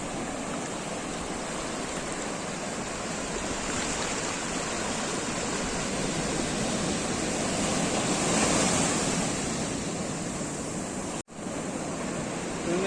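Sea waves washing onto the shore at Tondavali beach, a continuous broad wash of surf swelling louder near the end, close and steady with no voices.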